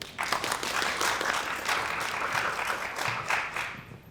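An audience at a college theatre performance claps and applauds, a dense, fairly loud burst of hand claps lasting several seconds.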